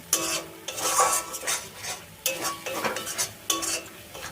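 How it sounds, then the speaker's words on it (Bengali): A spoon repeatedly scrapes through spice masala frying with a little water in a pan for alur dom, a bright sizzle that swells with each stroke in rhythmic bursts, close and without talking. "এখন ভালো করে এটা কষিয়ে নেব"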